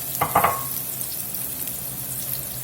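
A carrot dropped into a teaspoon of hot bacon fat on a pan gives a brief crackling burst near the start, then settles into a soft, steady, low sizzle.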